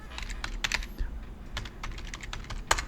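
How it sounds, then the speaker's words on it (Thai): Keys clatter on a computer keyboard as a short message is typed, close and crisp, in uneven bursts of several quick taps with brief pauses, no voices present. "เวลาที่เราพิมพ์คำว่าสวัสดีครับ เข้าไปเนี่ย"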